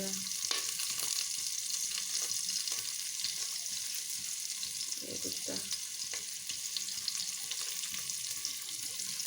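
Spices fry in a pan with a continuous low sizzle and scattered pops, plus occasional stirring clatter. A voice briefly says a word.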